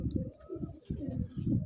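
Pigeons coo in low, throaty rolling calls that overlap continuously, close by and fairly loud, with a faint higher chirp now and then.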